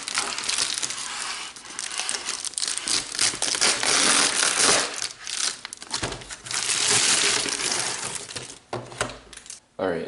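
Perforated cardboard packaging from a portable hard drive is torn open close up, with continuous rough ripping and crinkling noises in bursts over about ten seconds.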